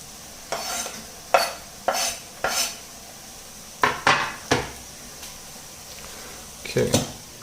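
Chorizo bolognese sizzles in a pan while a utensil stirs and scrapes it in irregular bursts, with a steady crackling fry running underneath throughout.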